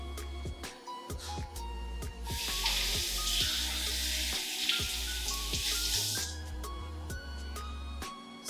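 A three-ingredient fudge mixture heating in a pan until it thickens like cement paste; a soft, close hiss of sizzling swells up midway and fades out again over a steady rhythmic backing track.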